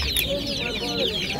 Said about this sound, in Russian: Сейчас сезон цыплят начался.